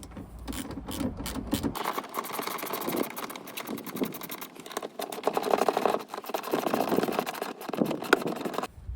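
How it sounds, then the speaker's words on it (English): A 15mm socket on a ratchet turns out the front seat bolts of a Ram DS 1500. It gives a steady run of fast, close, rhythmic ratcheting clicks with short pauses, and no one talks. "use your 15mm socket and ratchet and remove the two front seat bolts"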